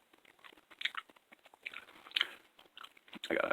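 Close-miked gum chewing in a soft-spoken ASMR setting: moist, irregular clicks and smacks come in loose bursts, louder near the end, with no talking.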